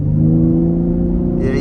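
A 2023 Ford F-150 Raptor pulls at about half throttle with its exhaust in quiet mode, giving a steady, subdued low engine drone that holds even throughout the moment.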